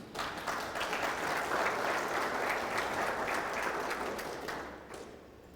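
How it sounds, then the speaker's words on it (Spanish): Church congregation giving another round of applause to the Lord during a service, a sustained wash of many hands clapping at moderate distance that swells briefly and tapers off at the end. "denle un aplauso más al Señor"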